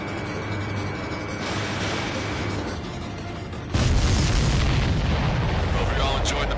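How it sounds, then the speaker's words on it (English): A missile strikes a supply ship in the combat flight game Ace Combat 7: Skies Unknown, a deep booming blast that jumps in loudness partway through and rumbles on heavily over a steady engine drone. "Missile hit the supply ship dead on."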